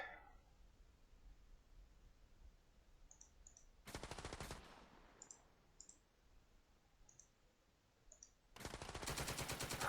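Machine-gun fire in the video game Second Front, a sustained rattling burst followed by a few scattered clicks and a second long burst, loud against a steady background hiss.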